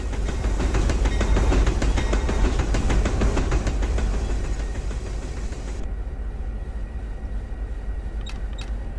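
A locomotive in Run8 Train Simulator rolls along with a flat spot on a wheel, giving a loud, dense, rhythmic clickety thumping over steady rumbling rail noise that continues throughout without talk.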